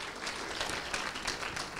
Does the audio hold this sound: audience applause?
yes